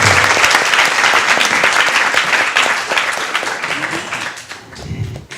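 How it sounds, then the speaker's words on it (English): Audience applause at a Vyasa Puja ceremony, a dense, loud wash of clapping that holds steady and then thins out toward the end. "let's give a big round of applause to her"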